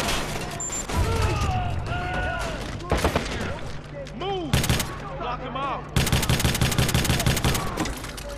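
Gunfire in the video game Watch Dogs, with dense bursts of rapid shots and automatic fire running through the whole stretch alongside game effects and loud crashes.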